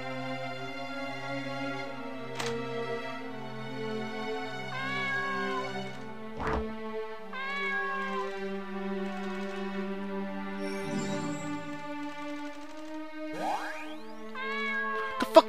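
A cat in a horror video game meows repeatedly, with rising and falling calls spread across the span, over sustained droning musical tones and occasional sharp dings.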